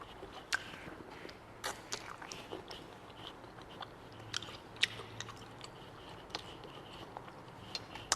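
Close chewing and soft slurping of a bowl of northern Thai rice noodle soup with spicy broth, steady wet mouth sounds and faint crunches with no talking.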